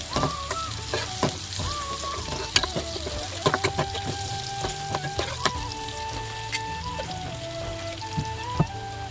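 Onions sizzle and crackle steadily in hot oil with dried red chillies, black cumin and a bay leaf, with bright spattering pops and occasional utensil clinks throughout, no voices.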